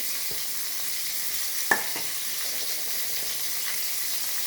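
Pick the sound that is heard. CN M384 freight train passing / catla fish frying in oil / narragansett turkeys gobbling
catla fish frying in oil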